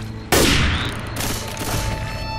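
Gunfire in the zombie shooter Left 4 Dead 2 on the Swamp Fever map, a sudden loud burst of rapid shots that rings out and then gives way to continued scattered firing and game noise.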